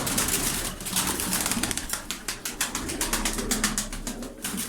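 Tumbler pigeons coo in a loft in Darıca, their soft repeated calls layered over rapid clicking and fluttering wing sounds, close and continuous with no voices.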